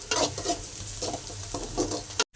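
Onions stirred and frying in a pan while cooking beef kannippu, the browning slices giving a steady sizzle broken by regular scraping strokes of the spoon, close and moderately loud with no voices.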